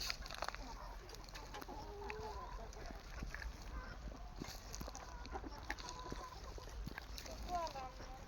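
Desi country chickens on a free-range poultry farm cluck and call continuously at close range, with a busy flock murmur throughout and occasional louder squawks rising above it.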